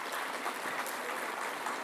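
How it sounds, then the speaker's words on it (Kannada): An event audience bursts into brief, dense applause, steady clapping filling the hall for a couple of seconds. "ಒಂದ್ಸಲ ಜೋರ ಚಪ್ಪಾಳೆ"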